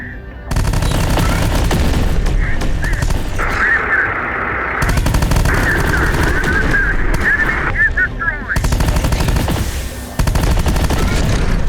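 Rapid machine gun fire from a video game rattles in loud sustained bursts, broken by short gaps, with a harsh tone running through much of it.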